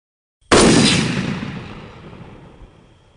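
A single sharp rifle shot fired with a Hornady bullet at a wild hog during a thermal-scope hunt, a loud close crack followed by a long decaying rumble and echo that fades over about two and a half seconds, with no voices.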